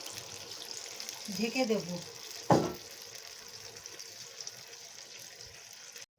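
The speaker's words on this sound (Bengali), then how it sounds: "নেড়ে চেড়ে নেওয়ার পরে এতে দিয়ে দেব গরম জল" Hot water is poured into a cooking pot of doi dhokar dalna, a Bengali lentil-cake curry in yogurt gravy, giving a short splashing, sizzling burst mid-clip while someone talks quietly.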